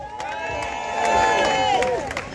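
A crowd at a Whitehall digital ID protest in London cheers and claps, a sustained wash of cheering with whoops and applause, swelling toward the middle while a voice rings over it.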